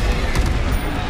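A Bombarda explosion spell in Hogwarts Legacy, a loud, dense burst of blasting noise and rumbling debris filling the whole moment, with no clear speech over it.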